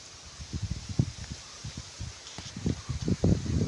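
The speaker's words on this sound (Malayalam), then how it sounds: "നല്ല കാറ്റ് കേട്ടോ" Wind rustles through the leaves of a forest rubber plantation in soft, uneven gusts, with low buffeting swells that come and go, fairly close and otherwise quiet.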